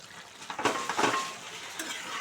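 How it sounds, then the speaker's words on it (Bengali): Stirring a cauliflower, potato and paneer curry in a pan with butter and kasuri methi, producing soft scraping and light clinks of a utensil against the pan over a faint sizzle, close and moderate in level. "এবার একসঙ্গে সবটা নেড়ে দেব।"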